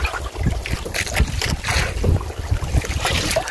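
Gusty wind buffets the microphone with rough, fluctuating rumble, mixed with the low drone and splashy motion of a boat on water.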